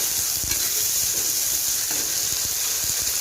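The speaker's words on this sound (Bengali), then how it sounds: "লঙ্কা বাটা দিয়ে এখন মশলাটাকে ভালো করে কষিয়ে নেবে যতক্ষণ না মশলাটা থেকে তেল বেরোয়" Spice paste of ground onion and chilli frying in a pan, a steady close sizzle and hiss with faint scraping stir sounds, no voices.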